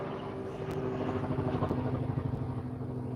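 Helicopter passing overhead near a helicopter manufacturing plant, a steady rumbling engine and rotor drone at moderate distance with no talk over it.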